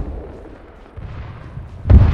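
Military video game combat: muffled distant gunfire and booming artillery rumble, growing louder until a heavy close blast near the end, with no voices over it.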